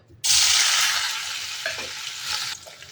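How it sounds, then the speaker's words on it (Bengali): Paneer pieces hit hot oil in a wok with a sudden loud sizzle, then a steady bright hiss that slowly settles, with no talking. "আর এদিকে কড়াই বসিয়ে দিয়েছি, তেল গরম হয়ে গেছে, দিয়ে দেবো পনিরগুলো।"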